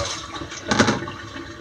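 Water splashes and gurgles briefly as it is poured out, swelling to a short rush before fading away.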